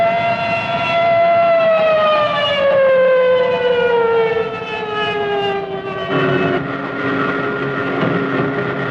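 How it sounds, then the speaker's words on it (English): Air raid alarm sirens wail over German fighter airfields in wartime, a loud, steady rising-and-falling howl that sustains throughout with a rumbling engine-like undertone beneath. "Alarm sirens wail over the German fighter fields,"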